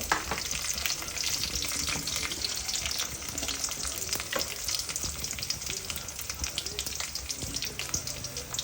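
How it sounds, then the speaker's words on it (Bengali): Whole spices sizzle and fry steadily in hot oil in a pan while cooking bhuna khichuri. The spices are cardamom, cloves and bay leaf. The crackling hiss is close and continuous, with light stirring scrapes throughout. "এখন আমরা দিয়ে দেব হচ্ছে গরম মশলা এলাচ লং তেজপাতা"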